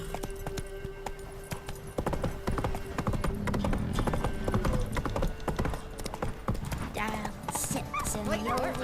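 Rhythmic hoof clip-clop of a horse galloping in The Witcher 3, with a short whinny near the end, carried along under game music and spoken dialogue.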